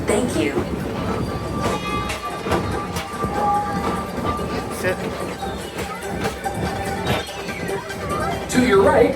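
The Tomorrowland Transit Authority PeopleMover ride vehicle glides along its track with a steady rumbling clatter and rattles, heard onboard under a recorded narration voice.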